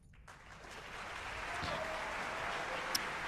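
Applause sound effect set off by a cat stepping on a Stream Deck, a broad steady clapping wash that swells in after a moment and holds loud to the end, with a faint talking voice underneath.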